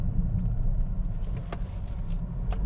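Interior road noise in a 2020 Toyota Corolla Hatchback cruising down the road: a steady low rumble of engine and tires fills the cabin, with a couple of faint clicks and rattles, and no talking.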